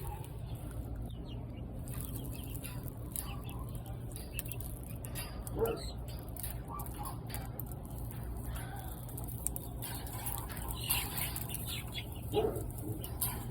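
Chickens clucking softly in a coop, a faint scatter of clucks and scratching over a steady low hum, with occasional louder bursts and some background noise.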